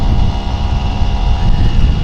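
A 1971 Kawasaki G3SS 90cc motorcycle engine runs steadily on a country back road, a continuous loud buzzing drone with heavy wind rumble and no talking.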